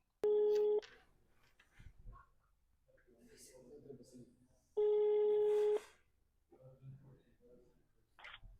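Two long, steady telephone ringing tones sound loud and clear over a phone call, separated by a few seconds of quiet conversation between them and afterward.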